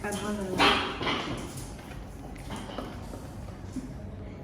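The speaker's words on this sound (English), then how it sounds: "that was the dog playing with her toy" A pet dog playing with her toy in a home kitchen during lemon drizzle cake baking, giving short yips and barks under a woman's speech, loudest early then fading into lighter scuffling.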